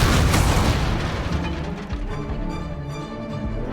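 A Confringo fire spell blasts in Hogwarts Legacy. A loud, close explosive burst opens, then a rumbling roar trails off into rattling game combat noise.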